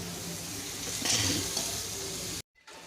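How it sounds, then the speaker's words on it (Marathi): Paneer, cauliflower, capsicum, tomato and potato fry in a pan with a steady, close sizzle and some stirring, broken by a brief silence near the end before the frying resumes. "इथं छान असं आपलं मस्त भाज्या आपण छान शिजून घेतो आहे ह्या पनीर फुलगोबी शिमला मिर्ची टोमॅटो बटाटा"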